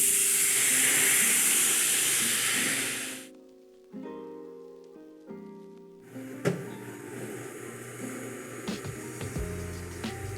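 Wine added to a hot pan after searing lamb chops gives off a loud, broad sizzling hiss for about three seconds. The hiss then drops away and returns as a quieter steady bubbling and sizzle.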